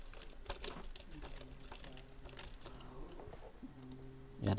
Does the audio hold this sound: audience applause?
no